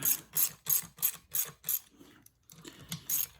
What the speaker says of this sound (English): Put our ratchet in forward only mode. Let's get it nice and tight here.